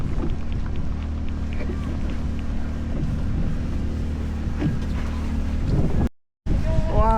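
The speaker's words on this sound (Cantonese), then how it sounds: "聽下啲風聲" Steady wind roars across a fishing boat on Hong Kong waters ahead of an approaching thunderstorm band, a constant low rumble with engine-like drone and brief dropout near the end.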